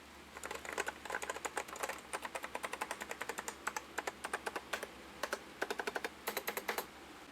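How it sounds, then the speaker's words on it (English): Keys clatter on a Macintosh Plus French-Canadian keyboard with a numeric keypad, a steady run of crisp, close clicks in quick bursts with short pauses between them, no voices. "it is the French-Canadian keyboard, but it's got the numeric keypad on it"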